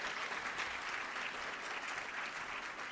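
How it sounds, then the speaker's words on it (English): Steady applause from a seated audience at a charity inductee luncheon, a dense, even patter of many hands clapping throughout with no talk over it. "That's a round of applause."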